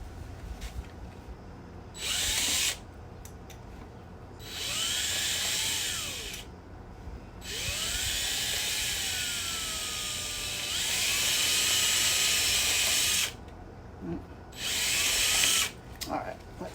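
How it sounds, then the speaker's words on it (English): Power drill deepening a hole for a rear shock mount during a Bel Air suspension install, running in several bursts of a few seconds each with a whining pitch that rises and falls, with pauses between. "make that drill hole a little bit deeper here"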